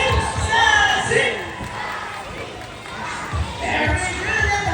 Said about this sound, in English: Come on, girls, let me hear your cheer.